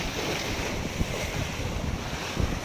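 Strong sea surf at Olas, Lagonoy, a continuous rushing wash of breaking waves mixed with heavy wind buffeting the microphone, with a couple of dull thumps and no speech.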